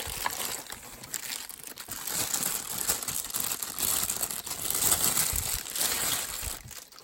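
Packaging of a Uniden SDS100 scanner radio crinkles and rustles during unboxing, with continuous close crumpling and crackling plastic and cardboard handling and no speech.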